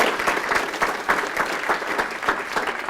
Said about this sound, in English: So let's have a round of applause as well for Eric